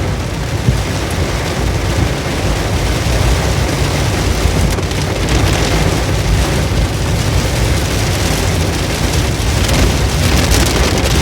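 Heavy rain pours steadily and loudly, with no letup, during a drive through the Nagarhole Tiger Reserve forest. The dense roar of water dominates throughout.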